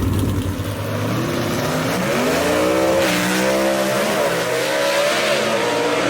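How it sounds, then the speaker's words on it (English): Gasser-class drag racing cars at Union Dragway launch and tear down the strip, their engines roaring loud and close in a steady, rising howl with no voices over it. "So Troy Leitner gets the win right here as they streak down the racetrack"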